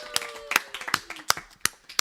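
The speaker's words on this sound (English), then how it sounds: "Big round of applause." Scattered hand claps from a small audience honoring the host at a live comedy roast, sparse and uneven, with several distinct sharp claps and a faint voice in the background.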